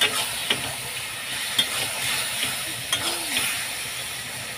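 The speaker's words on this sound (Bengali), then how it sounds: "ভালো করে নাড়াচাড়া করে নেব।" A spoon stirs a pickle mixture seasoned with turmeric in a pan, soft scraping and sizzling with faint clinks over a steady hiss, close and moderately quiet.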